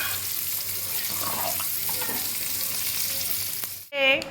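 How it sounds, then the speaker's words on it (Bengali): Fish frying in a pan gives a steady close sizzle with faint clinks, ending abruptly in a short, louder burst of a different sound; no speech. "এদিকে মাছ ভাজা বসিয়ে দিয়েছি"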